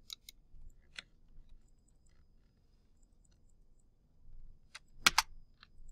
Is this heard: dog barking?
no